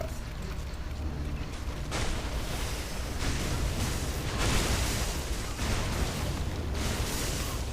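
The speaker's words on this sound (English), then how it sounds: "having the bunch of explosions, this is definitely more entertaining to watch than Diablo" Explosions from the action video game Torchlight: a dense, continuous roar of overlapping booms and crackling bursts, loud and sustained throughout with no pauses.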